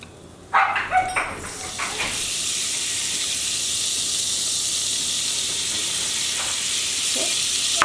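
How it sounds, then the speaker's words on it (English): Hot bacon fat pours off and sizzles loudly, starting with a few knocks and clatters before settling into a steady, bright, hissing fry that continues to the end, with no one talking. "We're just going to drain back out the oil from the bacon."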